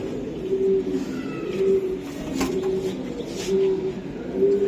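Pigeons coo softly and repeatedly in a loft where a female giribaz racing pigeon is handled, the low murmuring calls steady under light background noise.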